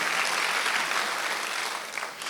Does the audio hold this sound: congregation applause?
yes